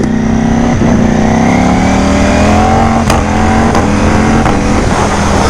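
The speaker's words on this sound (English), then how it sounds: "we'll give it a little bit more gas." Ducati Panigale V4 sportbike accelerating on the road, a loud continuous engine howl rising steadily in pitch, with quick shift breaks partway through and no talk.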